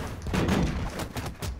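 Cannon fire in the video game Brawlhalla, a rapid string of punchy booming shots and thuds, loud and close, repeating in quick succession across under two seconds.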